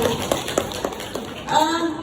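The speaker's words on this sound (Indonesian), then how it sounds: "tepuk tangan untuk Fatia dari kelompok 1" A class applauds for Fatia from group 1 with a short run of rhythmic, moderately loud claps. Voices are heard talking over the clapping near the end.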